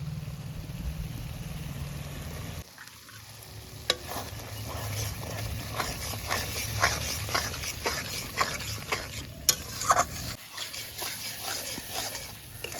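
Masala is cooked down in oil with chopped green chillies and sour yogurt for prawn malaikari, giving a soft continuous sizzle with stirring scrapes, fairly quiet, and a faint low hum in the background.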